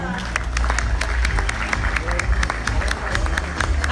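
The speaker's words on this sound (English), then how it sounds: "Please give your loudest applause to the following" Loud, steady applause and crowd noise at a Miss Earth 2019 national costume competition, with distinct sharp claps over a rumbling hall background and faint crowd babble.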